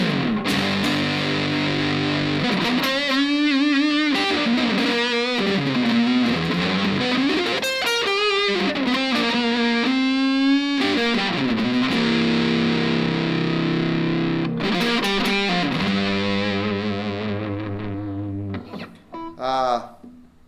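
Heavily distorted Fender Squier Mini Strat electric guitar on the neck pickup, playing chords and bends, loud and continuous, with a brief trailing squeal near the end.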